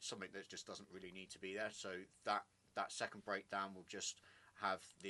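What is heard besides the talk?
None of the usual background noises is heard.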